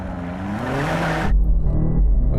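A sports car launch start on a drag run against a BMW M8, Porsche Panamera and Mercedes-AMG GT, with an engine winding up quickly and then a heavy low rumble after a sharp cutoff, close and loud.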